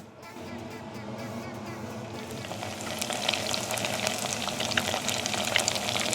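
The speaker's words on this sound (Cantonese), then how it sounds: "啲芝士洋葱圈咧已經上晒粉漿麵包糠啦，可以拎去炸啦" Breaded cheese onion rings go into hot oil for deep frying, with a steady sizzle that builds into a loud, crackling bubble while a voice talks briefly at the start.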